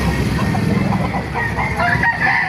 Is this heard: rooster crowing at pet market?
yes